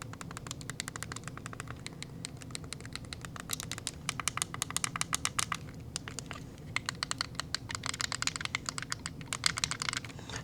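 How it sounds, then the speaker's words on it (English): Quiet, clicky buttons on a clamshell handheld game console are pressed in quick, irregular runs of light clicks, close up, with short pauses between bursts. "I'll go ahead and give you a little example of some button presses here"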